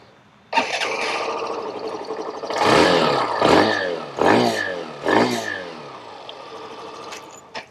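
A Hero Glamour Xtec 125 motorcycle starts up close by and idles, then is revved in four sharp, rising throttle blips that each fall back to idle before the engine cuts off.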